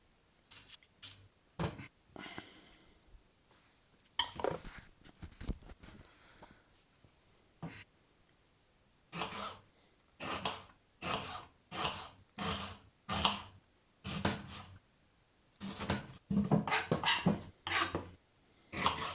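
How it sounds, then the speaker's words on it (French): Onions being chopped with a knife on a board for moules frites, a series of close, sharp cutting taps arriving in uneven bursts and steadier runs, separated by brief quiet pauses, with no one talking. "je coupe mes oignons"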